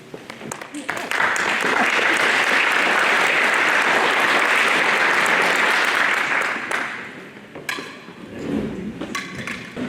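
Applause from guests at a funeral luncheon rises quickly into a loud, steady clapping that lasts about six seconds, then fades out as talk resumes.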